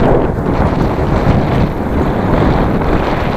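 Steady, heavy wind buffeting a microphone outdoors in Qinghai, China, a continuous low roar with no pauses and no other clear sounds.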